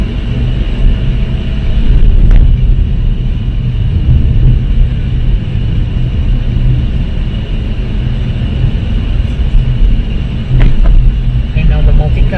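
A car drives along a road in Cebu while overtaking, its engine and road noise a loud, steady low rumble throughout with a couple of brief louder swells as traffic passes.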